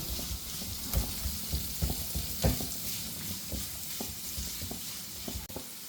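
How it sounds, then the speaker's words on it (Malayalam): Onions sauté in a pan for an okra stir fry while a spoon stirs them, producing a soft constant sizzle with repeated light scrapes and taps close by. "ഒന്ന് ഇളക്കി കൊടുക്കാം സോള ഒന്ന് വഴന്ന് വരട്ടെ"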